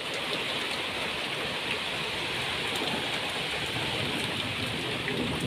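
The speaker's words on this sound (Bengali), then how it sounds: "আর প্রচুর পরিমাণে বৃষ্টি হচ্ছে," Heavy rain falls outdoors in a dense, even hiss that is loud and close, steady throughout with no voices over it.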